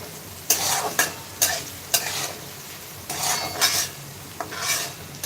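Chopped onion for poha sizzles in a pan as a spatula stirs and scrapes it in quick repeated strokes, crisp and close over a steady frying hiss, with no voices.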